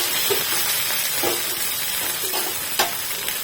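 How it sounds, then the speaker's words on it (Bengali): Chopped capsicum lightly fried in a pan for a mixed-vegetable paratha, a soft continuous sizzle with occasional stirring scrapes, close and moderate in level. "এবার এর মধ্যে দিয়ে দেবো হচ্ছে ক্যাপসিকাম কুচি, দিয়ে এটাকে হালকা করে ভেজে নেব।"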